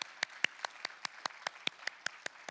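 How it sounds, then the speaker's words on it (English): A small group in a morning meeting on Parkinson's disease claps for a woman, producing sparse, distinct individual claps at a fairly even pace, quiet and close, with no voices over them. "I think we should all give Leisha a round of applause too"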